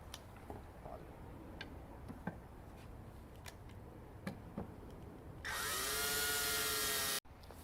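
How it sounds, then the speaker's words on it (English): A power drill drives screws into a wooden birdhouse, a loud sustained whirring burst that runs for about two seconds near the end, following a stretch of scattered light taps and handling knocks. "you can use either a screwdriver or a power drill in order to get these screws in"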